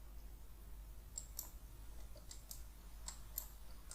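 A computer mouse right-clicks to duplicate a button, producing a few faint, crisp clicks spread unevenly across a quiet background.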